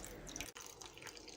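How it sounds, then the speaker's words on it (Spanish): Glass of water poured into a roast chicken pan with vegetables and rosemary, a brief soft splashing trickle heard faintly and alone. "Por último, agregamos un vaso de agua."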